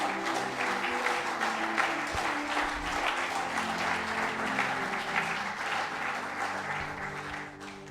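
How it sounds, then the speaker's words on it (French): A church congregation applauds loudly and steadily, a dense wash of clapping that holds strong from start to finish and eases only slightly at the very end. "Est-ce qu'on peut acclamer très fort pour le Seigneur?"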